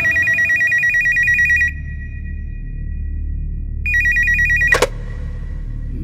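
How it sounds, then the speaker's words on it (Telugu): A mobile phone rings with a bright electronic ringtone, a steady repeating tone pattern that plays for under two seconds, pauses with a faint hum, then resumes before a sharp click cuts it off. "అన్నకి లేక లేక ఫోన్ వచ్చింది"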